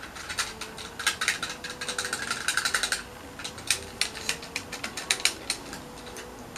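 A typewriter mechanism clatters up close with rapid bursts of clicking keys and ratcheting, a dense run of strikes followed by a pause and then sparser, irregular clacks.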